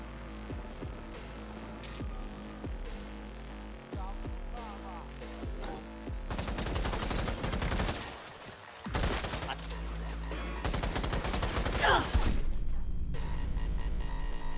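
Smart weapon gunfire from the Cyberpunk video game comes in rapid bursts and fusillades, growing denser and louder toward the end, while game effects and voices sound underneath.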